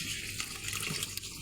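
Water poured into a cooking pot during preparation of an aloo dahi masala curry, a steady broadband splashing rush that runs unbroken and fairly loud, with no speech.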